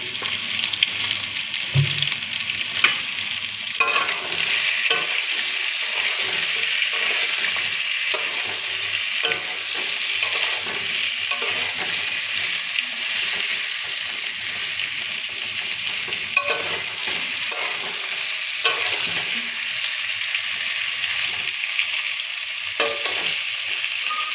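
Pointed gourd (potol) with garlic fries in a pan, a constant bright sizzle broken by repeated scraping and clinking as a spatula stirs the pieces.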